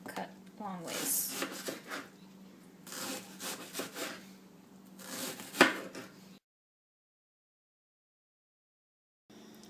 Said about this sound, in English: Then you grab your knife, cut it in half.